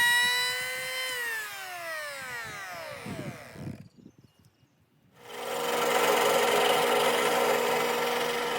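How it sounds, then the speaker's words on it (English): A router table fitted with a straight bit spins down with a falling whine, goes quiet briefly, then whirs back up to a steady high-pitched roar while smoothing the edges of wooden sailboat cockpit trim for a Catalina 30. "On this piece, I'm using a straight bit to smooth the inside"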